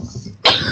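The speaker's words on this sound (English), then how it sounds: "Excuse me, got a cough." A man lets out a single sharp, loud cough close to the mic, after a brief quiet stretch with faint low room noise.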